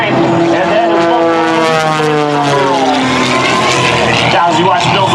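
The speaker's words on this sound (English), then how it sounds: "let's watch the torque of this big Lycoming engine" An aerobatic airplane with a big Lycoming engine roars loudly overhead at an air show, its engine pitch sliding and shifting as it maneuvers, a sustained powerful drone with no pauses.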